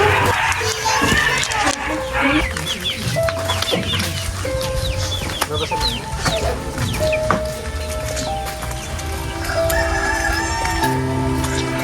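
Chickens cluck and a rooster calls in a rural Filipino yard, with scattered bird sounds, children and people talking around them, and tonal notes running through.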